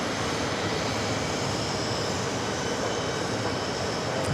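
A jet aircraft rumbles at New York's JFK airport, a steady broadband engine roar that holds level throughout, distant rather than close, with no voices.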